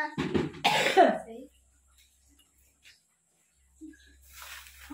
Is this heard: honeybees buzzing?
no